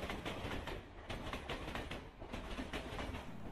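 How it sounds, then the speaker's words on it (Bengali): A passenger train runs on its rails while crossing from Uttar Pradesh into Punjab, a loud, continuous rumble with a steady clickety-clack rhythm of the wheels, heard alone without any voices. "আমাদের ট্রেনটি ক্রমশ উত্তরপ্রদেশের সীমানা অতিক্রম করে প্রবেশ করছে পাঞ্জাব রাজ্যে"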